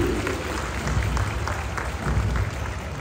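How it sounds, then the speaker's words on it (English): Crowd at a birds of prey show in an outdoor amphitheater at Bird Paradise, Singapore, clapping in a steady, moderately loud patter with a few sharper claps standing out. "Let's give them a big round of applause,"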